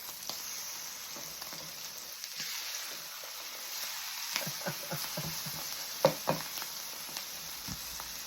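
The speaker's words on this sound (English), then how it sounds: "We're going to fry these in this butter for a few minutes" Food fries in butter in a pan with a steady low sizzle and hiss, broken by a few soft pops and clicks of stirring or turning, close and fairly quiet with no talk.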